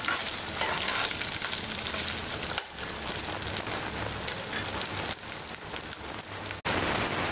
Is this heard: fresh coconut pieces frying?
yes